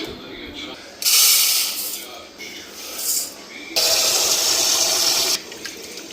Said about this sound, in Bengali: চালটা এদিকে ধুয়ে নিতেছি